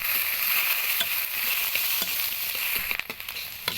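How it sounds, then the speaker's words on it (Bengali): Chopped onions, bay leaf and cumin seeds frying in hot oil, a close, constant sizzle broken by stirring scrapes and a cluster of sharp clatters near the end, no talking. "পেঁয়াজটা ভাজতে ভাজতে বাদামি কালার করতে হবে।"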